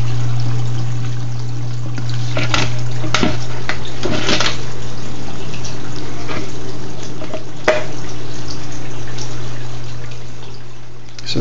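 Water flows steadily into a homemade bell siphon made from a 1-inch cap over a 1-inch pipe with cutouts at the bottom, a continuous pouring trickle with a low hum beneath and a few faint clicks.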